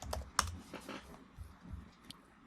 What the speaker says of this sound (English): And let me just type it in one last time to make sure.